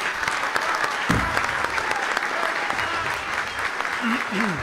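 Audience at a solemn municipal council session in Cusco applauds an honoree, a sustained, moderately loud round of clapping with faint voices mixed underneath.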